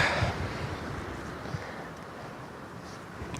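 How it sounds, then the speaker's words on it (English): Wind blows steadily outdoors at a Buddha site in Bhutan, a broad rushing noise buffeting the microphone, strongest at the start and easing slightly, with no talking. "Very windy, cold, chilled, beautiful ambience."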